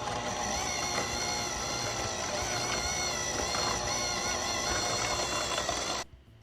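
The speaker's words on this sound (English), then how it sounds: "got that going at the mixer" Electric mixer whirring steadily through softened cream cheese, vanilla and sugar, a continuous close motor hum that cuts off abruptly near the end.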